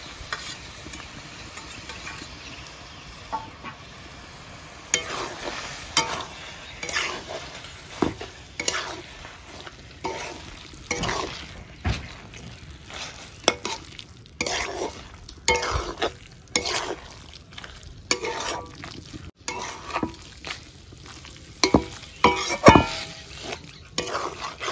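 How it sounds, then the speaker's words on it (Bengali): Chicken frying in hot oil in a pan for a chicken bharta, with a steady sizzle broken by frequent bursts of stirring and spatula scrapes, close and fairly loud. "এদিকে আমার তেল ছেড়ে দিয়েছে, এবার দিয়ে দিতে হবে চিকেনটাকে।"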